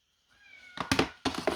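A cat meows several times in short, fairly loud bursts close by, after a faint tonal hum, with no one talking.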